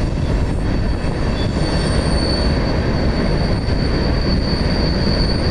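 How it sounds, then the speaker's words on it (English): An eastbound BNSF freight train of boxcars and oil tank cars rumbles under a bridge loud and close in a steady roar, with a thin metallic squeal of wheels running throughout. "BNSF led train headed eastbound, going under the bridge here."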